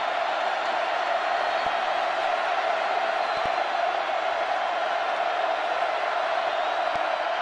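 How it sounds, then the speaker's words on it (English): A large stadium crowd at a 2008 Texas Tech versus Texas college football game roars in a sustained, dense wall of cheering that holds steady and loud throughout. "The crowd alive and love it."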